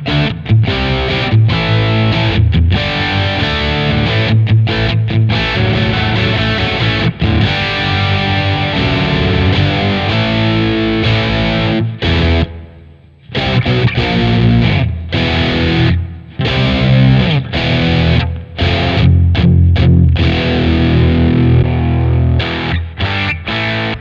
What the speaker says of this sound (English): JP Distortion, where am I? Based on a classic orange three-knob distortion.